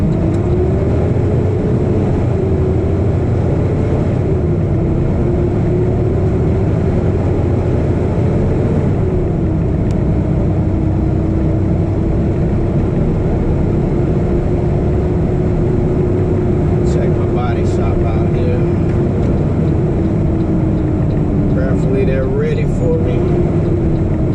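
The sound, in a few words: truck engine driving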